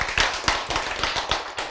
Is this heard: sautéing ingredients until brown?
no